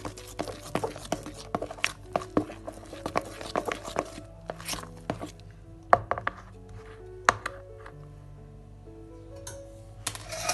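A spoon clicks and scrapes in a bowl of coffee cake batter with vinegar added, giving a quiet, irregular series of light taps and soft squishy stirring, close by and alone.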